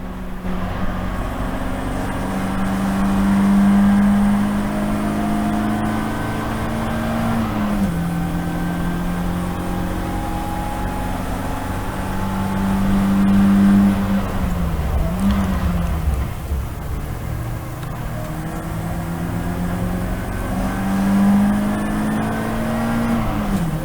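Race car engine in a 116 Trophy race at Snetterton, heard from inside the car as a loud, continuous drone rising and falling in pitch with shifts and acceleration, with brief dips as the throttle lifts.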